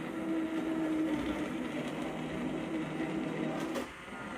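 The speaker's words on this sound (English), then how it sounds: "Okay, let's start pureeing them." Roasted tomatoes being pureed for canning with a blender or processor, a steady continuous motor whir with a faint rising tone, close and fairly quiet, easing off near the end.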